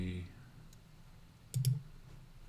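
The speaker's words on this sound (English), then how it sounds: "I'm right-clicking on those to configure them" A computer mouse gives a few sharp, quiet clicks, spaced apart, with a faint voice at the start.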